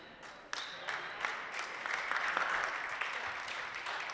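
Crowd applause at a high school girls basketball game between Nashua North and Bishop Guertin, scattered claps building into a moderate, steady round in a gym.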